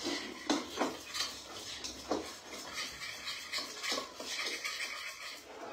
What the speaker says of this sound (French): Allez, on mélange tout ça